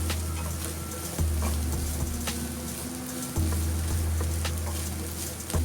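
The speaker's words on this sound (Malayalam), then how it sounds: "ഇനി ഇത് 3 മിനിറ്റ് ഒന്ന് സോട്ട് ചെയ്തെടുത്താൽ മതി." Shawarma sandwich masala sautéing in a pan, a steady close sizzle with occasional stirring scrapes and clinks, no talking.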